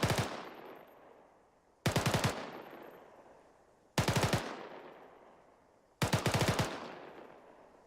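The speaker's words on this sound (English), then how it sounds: "press the fun key and cycle to your" Four short automatic rifle bursts of about three to five rounds each ring out from the video game Arma 3, evenly spaced roughly two seconds apart, loud and crisp with decaying echoes between them.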